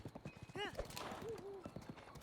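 A horse in a Zelda video game trots with quick, rhythmic clip-clop hoofbeats and lets out a brief whinny, all fairly quiet, while a person talks over it.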